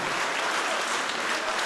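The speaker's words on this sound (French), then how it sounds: "Accueillez tous les applaudissements pour toi ce soir" Sustained audience applause fills a concert hall at a charity evening for breast cancer awareness, dense and even throughout with no voices over it.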